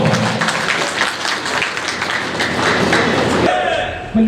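Audience applause and clapping at a national party convention, a dense, sustained wash of many hands that fills the whole moment, with a voice over the crowd near the end.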